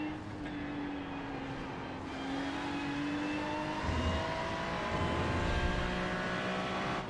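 The race car in iRacing drones steadily at close range, rising in pitch as it accelerates through gears, with rumbling road noise building beneath.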